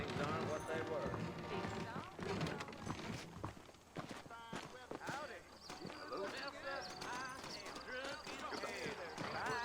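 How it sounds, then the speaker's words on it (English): Horse hooves clip-clopping in the Western video game Red Dead Redemption as saddled horses wait out front, a steady rhythmic clatter running under game dialogue and background music throughout. "I got the horses saddled up and ready out front."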